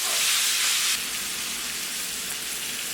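Diced yellow onions cook in a pan with a loud, close, hissing sizzle. It is strongest in the first second, then settles into a steady, slightly softer fry with no voices.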